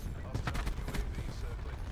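Sniper rifle fire in a multiplayer shooter video game: a few quick, faint shots and impacts in under two seconds, set against soft background game noise.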